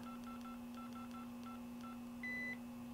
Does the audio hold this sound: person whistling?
no